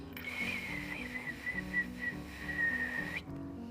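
A person whistles a single sustained, wavering high note for about three seconds, fairly faint and heard alone.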